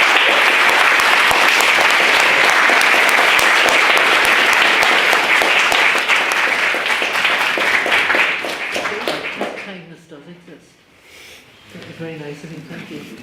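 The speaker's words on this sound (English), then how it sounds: "So can we have a big round of applause for our speakers?" A debate audience bursts into sustained, dense applause that fills the room for about eight seconds, then thins and fades, with a voice speaking briefly as the clapping dies down.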